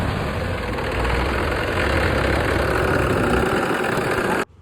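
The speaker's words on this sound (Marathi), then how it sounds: "आज मी किती दिवसातून चक्क ट्रॅक्टर चालवलाय." A tractor engine runs steadily at close range, a loud continuous low rumble that cuts off abruptly at the very end.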